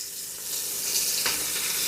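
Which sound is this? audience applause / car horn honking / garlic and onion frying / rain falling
garlic and onion frying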